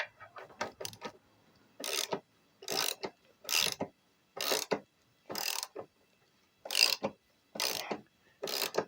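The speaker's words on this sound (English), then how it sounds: "it allows me now to jack the machine up" Jack raising a Triumph Bonneville 865 EFI motorcycle under the sump guard, giving a series of about nine separate ratcheting clicks and mechanical pumping strokes at a steady rhythm, close and fairly loud, with no talking.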